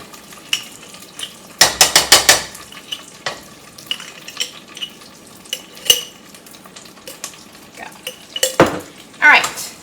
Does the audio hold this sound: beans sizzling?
yes